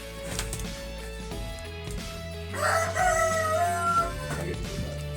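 A rooster crows once, clear and fairly close, near a mechanical shop in Chase, Alaska, over a low steady mechanical hum and faint background activity.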